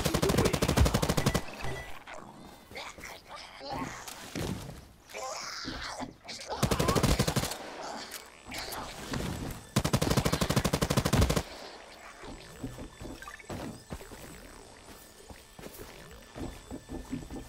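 Gunfire in the video game Hawked comes in three loud bursts of rapid automatic shots, with quieter in-game ambience and movement sounds in between.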